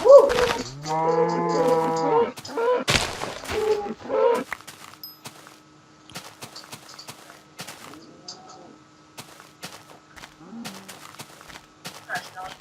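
A cartoonish Minecraft cow moo rings out near the start, followed by speech and light clicking sounds from multiplayer survival gameplay.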